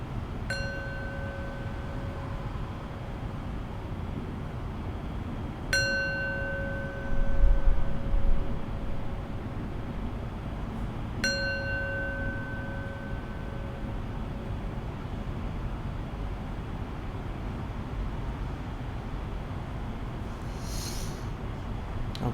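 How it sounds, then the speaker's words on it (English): A meditation bell rings three times at even intervals, each strike a bright, clear tone with a long sustained ring that fades slowly over a quiet background hiss, closing a mindfulness practice session. "I'll end practice with 3 rings of the bell"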